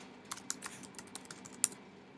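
Typing on a computer keyboard while entering a name for a Cricut design, with quiet irregular key clicks, a couple of sharper taps and no talking.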